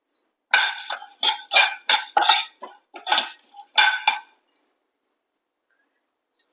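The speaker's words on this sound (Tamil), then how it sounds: "இப்போ கொஞ்சமா பொட்டுக்கடலையை நம்ம வறுத்துக்கலாம்." Roasted gram (pottukadalai) is being dry-roasted in a pan. About eight short, close bursts of rattling and scraping come in an uneven rhythm, then fade to a few faint ticks and silence.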